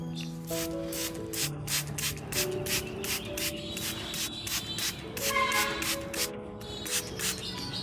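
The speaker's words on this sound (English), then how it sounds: "pour the nutrient-rich coconut water mixture into the spray bottle and lightly mist the leaves and roots" A spray bottle mists in quick repeated bursts, a steady series of short hissing spritzes with light handling noise underneath.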